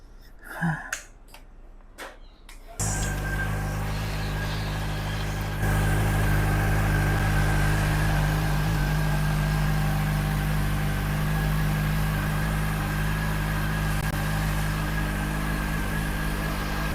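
A freshly serviced SRK450RR motorcycle engine starts after a few faint clicks and settles into a steady, loud idle, its low drone and rumble continuing evenly up close with a slight rise partway through.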